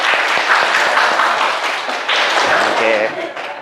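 Classroom of 11th-grade students clapping together, a dense continuous burst of applause close by, with teacher and students' voices mixing in over it.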